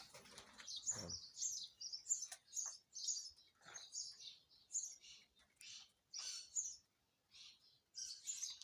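Pigeons in a loft, young birds among them, give repeated high chirps and calls in close, irregular bursts with short pauses and a faint flutter of wings.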